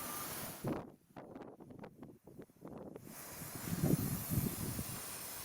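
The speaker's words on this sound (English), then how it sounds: "so I'm just going to soak it with some oven cleaner" Oven cleaner sprayed from a can onto a disassembled aluminium engine head with the valves out, heard as a close hiss that cuts off, then a clatter of small handling noises and a rising sustained spray hiss.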